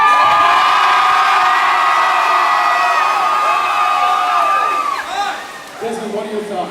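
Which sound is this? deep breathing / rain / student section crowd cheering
student section crowd cheering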